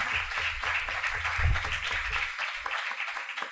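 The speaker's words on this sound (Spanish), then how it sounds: "Un aplauso para él." An audience applauds at the presentation of the first Parapsychology and Mystery Biennial in Bélmez de la Moraleda, 2017: a continuous patter of hand claps, moderately distant and fairly soft, lasting a few seconds.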